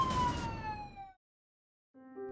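A siren in an animated fairy-tale film wails with a descending pitch sweep that fades out, followed by a short silence and then a brief tonal sound.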